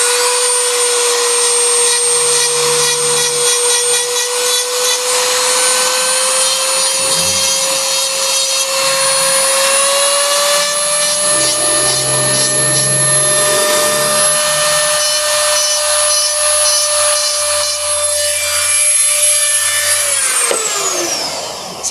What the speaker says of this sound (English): so I just Dremel them